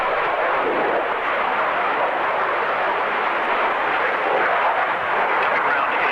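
A military jet pulls a very tight, high-G turn over the airfield at the 1993 Coningsby airshow, its steady, loud roar sustained throughout with no voices.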